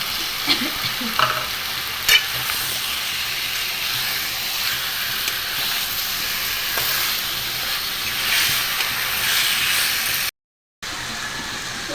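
Chicken and potatoes are stir-fried over raised heat for chicken biryani. A close, steady sizzle runs throughout with repeated spatula scraping and occasional knocks, then briefly cuts to silence near the end.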